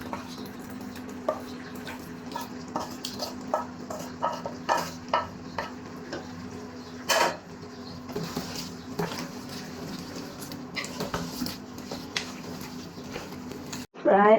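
Beef pieces for a pickle fry in a pan with garlic and are stirred, making a moderate sizzle broken by repeated scraping strokes, with a low steady hum behind and a voice at times.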